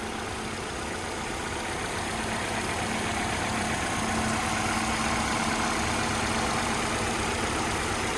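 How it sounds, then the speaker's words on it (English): A 2012 Ford Fusion SE engine idles steadily and evenly, a continuous close-up mechanical hum with no talking over it. "I'll just kind of be quiet for a second so you guys can hear the engine run"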